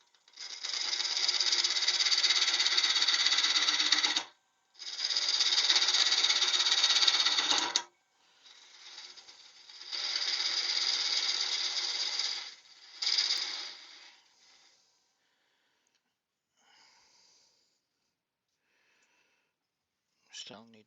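A skew chisel cuts a wet-turned ten-inch wood bowl on a lathe in several loud, scraping passes of a few seconds each, separated by short pauses, before it falls quiet with faint handling noises.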